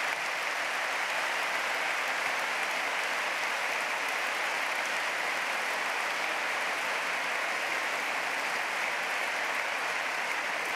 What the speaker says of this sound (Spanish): lo acogemos con un grandísimo aplauso